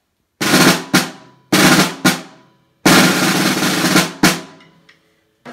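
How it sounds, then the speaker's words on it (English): Orchestral snare drum with snares stretched underneath, played up close in short bursts: crisp rattling rolls alternating with sharp single strokes, each cut off by brief silence. "Are instruments that don't carry a tune, such as the snare drum here."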